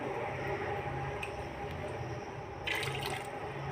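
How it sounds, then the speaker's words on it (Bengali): Water poured into a pan of chana while cooking, a short splashy pour near the start and another brief gush toward the end, close and moderately loud. "জল দিয়ে দিলাম"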